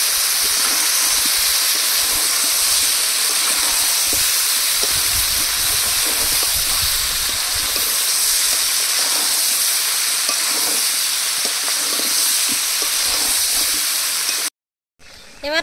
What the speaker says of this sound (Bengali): আলু আর রসুন দিয়ে এবার বেশ কিছুক্ষণ কষিয়ে তারপরে জল দিয়ে দেবো।